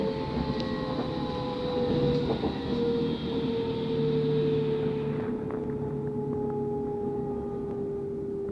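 Steady rumble from inside a moving train in Germany, a low, continuous rolling drone with a sustained tonal hum that shifts slightly partway through, with no talking.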